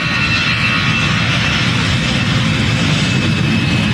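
An airliner taking off at KLIA airport, a loud continuous jet engine roar with a steady broadband rumble and a faint high whine, no voices.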